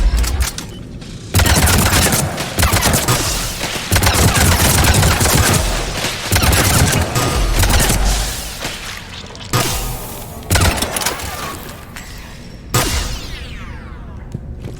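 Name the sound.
Firestorm weapon firing in Mass Effect 3 video game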